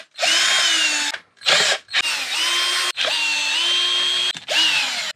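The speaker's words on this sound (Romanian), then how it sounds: "Activând bormașina la cele 25 de șuruburi pe care trebuie să le desfacem." A power drill spins screws out of the cover on a BMW N55 engine in a 2008-era E91 335i, running in several loud sustained bursts with brief pauses between them, close by and without talk.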